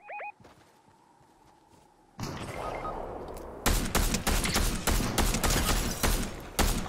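Gunfire in a Fortnite end-game fight: a quiet stretch, then a rising clatter, then a loud, rapid volley of sharp shots crackling close by for several seconds.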